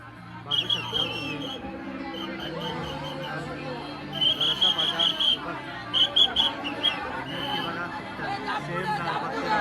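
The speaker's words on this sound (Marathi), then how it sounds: "लय वाईट गर्दी आहे" A dense crowd packs the darshan queue at a Gauri Ganpati pandal at night, with constant loud chatter and babble all around, punctuated by intermittent shrill whistles.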